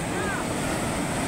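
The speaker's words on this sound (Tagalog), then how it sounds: "Lakas ng alon eh." Strong ocean waves break on a black-sand beach at a Batangas resort, giving a loud, continuous wash of surf with wind buffeting the microphone.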